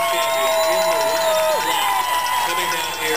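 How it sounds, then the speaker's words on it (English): Spectators cheer and shout at the Boston Marathon finish as the women's wheelchair winner comes in, a loud continuous crowd roar under a commentator's voice. "You can hear the crowd."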